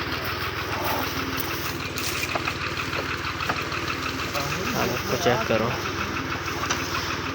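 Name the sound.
tractor pulling a sugarcane trolley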